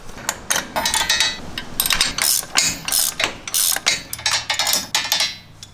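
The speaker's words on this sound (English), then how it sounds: "we're going to go ahead and use a 9/16 inch socket and a 9/16 inch wrench to" A 9/16 inch socket and wrench tighten a nylock nut on a Jeep JL Wrangler front axle during a Rancho 2 inch lift install: rapid, close ratchet clicking in repeated bursts of about half a second, with no talking.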